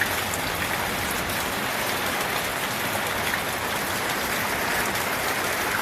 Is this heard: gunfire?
no